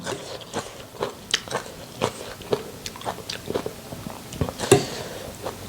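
Someone eating rice noodles with mushrooms and fermented fish sauce, close soft bites, chewing and light crunches in an irregular pattern, quiet with no talking.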